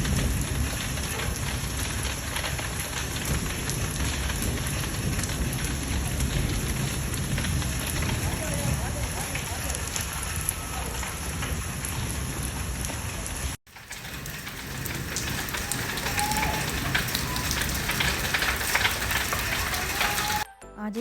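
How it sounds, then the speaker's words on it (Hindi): Heavy rain pouring during iftar time, a dense continuous roar of water that fills the whole stretch, briefly cutting out and resuming before ending abruptly. "आज इफ्तारी के टाइम बहुत ज़्यादा बारिश हो रही है"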